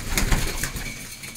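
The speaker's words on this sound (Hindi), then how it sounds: "कबूतर देख लो आप" Punjabi Malwai pigeons coo in a low, throaty stream, several birds close by with soft overlapping calls and a rustle of movement, no voices.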